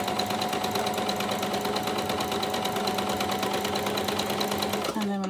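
A sewing machine runs steadily while stitching a fabric seam, a fast, dense mechanical whir with rapid needle clatter that stops abruptly near the end.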